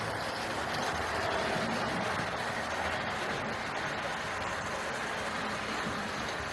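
A model GWR 4-4-0 locomotive, by Hornby or Bachmann, runs around a model railway layout, giving a steady, continuous rumbling rattle close by with no talking.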